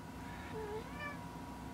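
A house cat on a bed lets out a couple of soft, faint meows in quick succession in a quiet room, with no voices.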